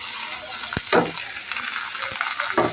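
Bottle gourd peel with a small potato, turmeric and salt frying in a pan, a steady sizzle broken by a few sharp scrapes and clinks of stirring.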